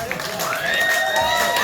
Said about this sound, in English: let's clap your hands, let's hear it for the Gold Diggers